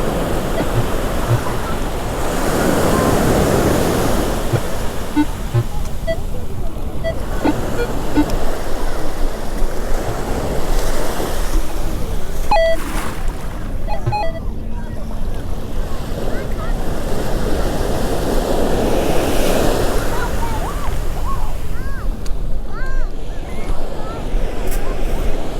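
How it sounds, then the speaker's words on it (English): Ocean surf on a Florida Atlantic beach at Jensen Beach, with waves washing in and out in slow swells, loud and close, mixed with strong wind noise on the microphone. "Can't get the waves to stop."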